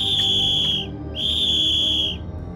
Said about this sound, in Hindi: तभी सीटी बजने की आवाज आती है।